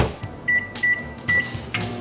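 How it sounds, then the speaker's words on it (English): A kitchen microwave oven being set and started, with three short electronic beeps spaced evenly between soft clicks and handling knocks, close and fairly loud. "you put it in the microwave for 25 seconds"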